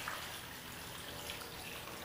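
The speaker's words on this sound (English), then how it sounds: "All I'm going to do is add the water." Water pours into a soup pot holding potatoes and celery root, a continuous rushing gush at low level for the whole short moment.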